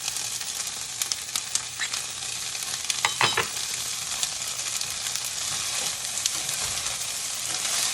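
A couple of tablespoons of butter sizzle in a hot pan with a steady, close crackling hiss, scattered pops and a brief stirring scrape midway, no voices.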